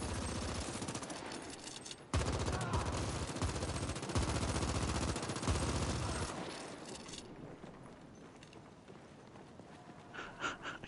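Sustained rapid gunfire from a weapon that never seems to run dry in the sci-fi shooter The Ascent, loud and dense for about six seconds, then thinning into quieter ambient combat noise.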